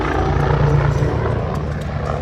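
A Red Bull twin-engine helicopter with two Rolls-Royce 250-C20B engines flies at the Wings Over Camarillo air show, giving a loud, steady rotor and turbine roar that holds close and even throughout.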